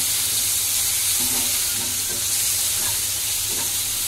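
Ginger-garlic paste frying in a pan while preparing hilsa pulao, a dense continuous hiss and sizzle close by with faint stirring scrapes underneath, steady and fairly loud with no pauses.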